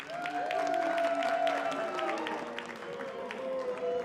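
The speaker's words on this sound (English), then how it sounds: "Make a round of applause real quick for the Land Sharks." An audience applauds and cheers steadily for a team at an esports event in a large reverberant hall, with music and scattered voices mixed in.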